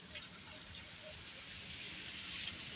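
Heavy rain falls steadily on a roadside where buses pass, giving a broad, even wash of hiss and patter that builds slightly toward the end, with no talking.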